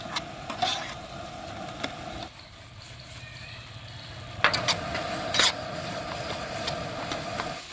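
Ground red chili and garam masala spices simmering in a pan for dahi baingan, a continuous close sizzle with occasional clinks of a utensil and a brief quieter stretch partway through.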